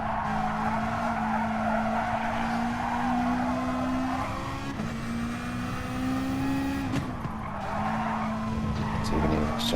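A race car on worn tyres slides and skids around the Catalunya circuit, tyre scrub and squeal running over a steady, loud engine drone that shifts pitch briefly near the end.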